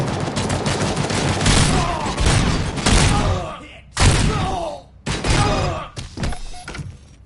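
Heavy gunfire in the video game RoboCop: Rogue City, loud sustained bursts of shots with impacts and thuds, broken by brief pauses before fresh volleys resume, with a voice talking over the action.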